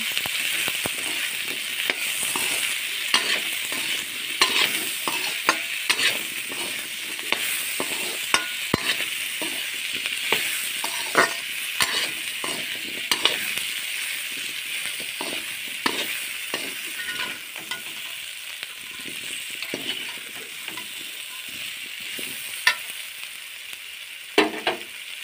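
Small whole potatoes frying in a pan for a breakfast snack, a continuous crackling sizzle with frequent scraping and stirring taps, close and moderately loud throughout.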